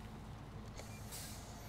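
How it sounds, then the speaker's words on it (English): Quiet engine rumble of a truck creeping down a hill in low gear in the Snowrunner video game, with a short hissing air burst partway through and no speech. "Keep it in low gear."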